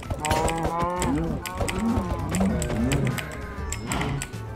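Cows in Minecraft moo repeatedly, several short, rising and falling bellows close together over a few seconds, with some clicking game noises around them.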